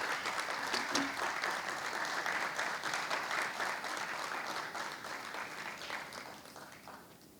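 Sustained audience applause welcoming two storytellers onto the stage at a Qissagoi storytelling event, dense and steady throughout, filling the hall before fading slightly at the end.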